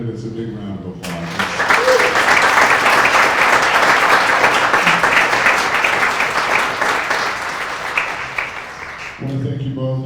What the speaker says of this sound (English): let's give both of the candidates a big round of applause.